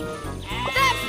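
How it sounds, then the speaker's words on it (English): Sheep in a Thomas and Friends video game let out a steady, wavering bleat, close and clear over soft game background sound. "Oh no! Sheep have wandered onto the tracks."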